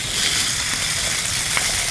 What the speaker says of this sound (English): Just melt the honey and the butter together.